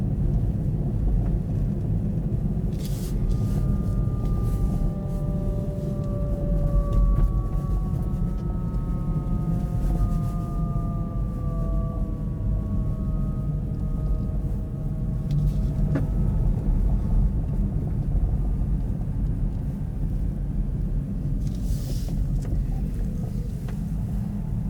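A Kia e-Niro electric car drives through extreme cold around -35°C, giving a steady, loud low road and tyre rumble with faint whining tones rising and falling over it and no talk.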